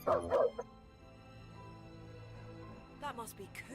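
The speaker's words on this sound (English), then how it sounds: "We pet the puppy." A puppy in the video game Beast of Reincarnation gives a couple of quick, loud yips at the start and again near the end, over a quiet low game soundtrack.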